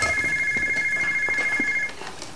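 A telephone rings in a dubbed Indian romance film scene. One steady electronic ring holds for about two seconds and then cuts off, over faint background sound.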